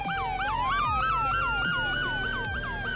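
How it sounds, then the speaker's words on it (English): Police car siren in the Roblox ER:LC video game, a loud rapid yelp wail sweeping up and down several times a second, steady and close alongside a second rising tone. "I'm gonna try and get away from the siren so they can actually hear me."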